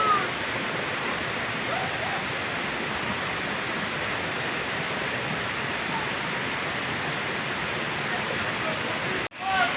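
A strong waterfall roars in a steady, loud, unbroken rush of water throughout, briefly cut off near the end, with people talking faintly under it.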